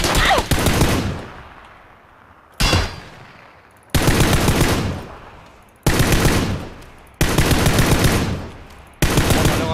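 Loud, close bursts of automatic gunfire from the PUBG battle royale video game, six separate volleys spaced a second or two apart, each cracking sharply and then trailing away.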